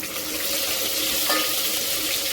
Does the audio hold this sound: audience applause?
no